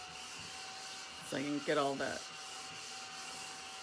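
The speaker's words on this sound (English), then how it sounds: "I need to break out my mini vacuum cleaner for a second" A small handheld vacuum cleaner picking up loose embossing powder runs as a steady, thin whirring hiss the whole time, while someone briefly speaks over it.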